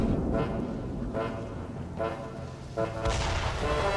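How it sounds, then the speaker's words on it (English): Mortar fire in a toy war video game, with a series of deep booming thuds at regular intervals, loud and close, followed by a heavier blast at the end, with no talk. "Oh, here comes the mortar!"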